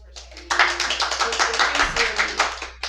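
At a Sheridan Parks and Recreation meeting, a small group claps for a staff member, close, distinct handclaps building quickly into a brisk patter, with some murmured voices underneath.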